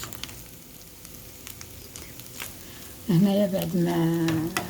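Oil heating in a frying pan gives a faint, steady sizzle close by, then a voice starts talking over it for the last couple of seconds.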